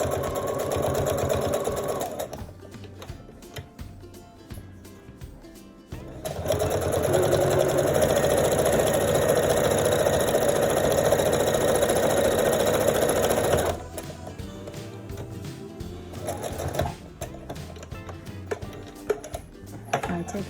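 Sewing machine stitching across folded fabric pleats on a homemade face mask, running in steady bursts with a loud continuous run in the middle and quieter start-stop stitching around it, close up.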